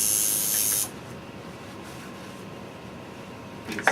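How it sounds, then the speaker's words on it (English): A spray bottle gives one short, loud hiss at close range while a tattoo is sprayed down, then near silence with a faint rustle at the end. "Spray this down."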